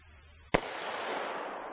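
A single sharp report from a Glock 40 MOS 10mm pistol fired at a 100-yard range, loud and close, followed by a long fading outdoor echo.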